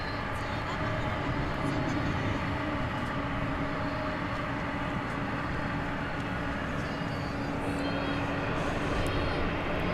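A Frontier Airlines jet at DFW Airport at night, a broad steady roar of engines that holds evenly throughout, heard from a distance with faint background noise.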